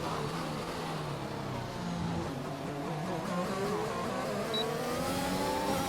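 Several race cars circle a track in a racing video game during a Bahrain round, caution flags out as one slows for lapping cars; engines drone steadily and loudly, rising pitches sweeping as cars pass, no talk.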